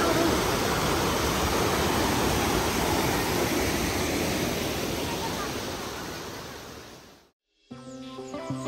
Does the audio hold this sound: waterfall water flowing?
yes